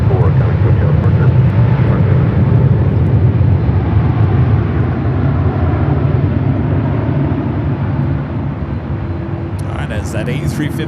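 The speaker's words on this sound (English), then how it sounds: "As that A350 rolls down" An Airbus A350 jet rolls down the runway on takeoff, giving off a loud, continuous low rumble of engine roar from a distance, with a faint high tone entering near the end.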